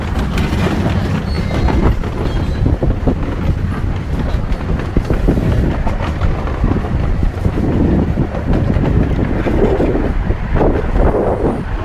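A 1970s train rolls along the rails with a steady, rumbling rush and faint rhythmic clatter, heard from inside a car amid wind buffeting, continuous and fairly loud with no talk.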